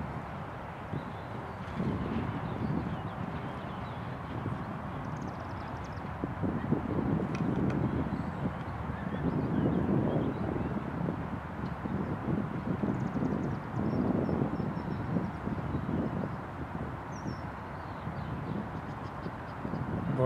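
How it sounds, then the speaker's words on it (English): An airplane passes overhead, a broad low rumble that swells and fades gradually over twenty seconds, mixed with wind buffeting the microphone outdoors. "Another plane overhead"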